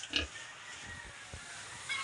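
A crossbred pig on a farm gives several short, low grunts, faint and spaced out over a quiet background, with no talking.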